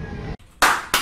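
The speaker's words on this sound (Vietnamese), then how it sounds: "Vỗ tay." Two loud bursts of hand clapping on a Vung Tau beach outing, the first longer and the second shorter, following a brief near-silent gap after mumbled background sound.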